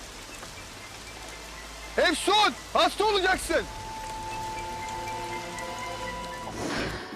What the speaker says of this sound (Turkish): yağmur yağıyor gel buraya